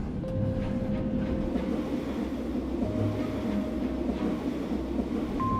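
A passenger train rumbles along loudly and steadily from inside a rail carriage, with a continuous roar, faint wheel clatter and a few thin tonal squeals over the whole stretch, no voices.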